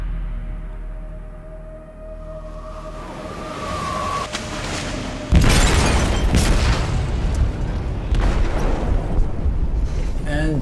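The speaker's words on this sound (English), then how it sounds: "They detonated an explosive in the hold." In Detroit: Become Human, an explosive goes off in a ship's hold with a sudden heavy boom, followed by a sustained roaring, rumbling wash of debris and noise. A tone and quieter ambience come before the blast.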